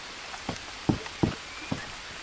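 Rain in the jungle survival video game Green Hell, a soft steady patter of drops with several louder, closer splats at irregular intervals, no talking.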